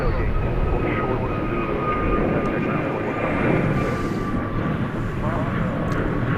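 A UPS cargo jet from the Louisville Worldport at DFW Airport makes a loud, steady engine roar with a faint whine held throughout, close and continuous.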